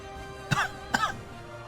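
Two short, sharp coughs about half a second apart, close and clear against a quiet background with no speech.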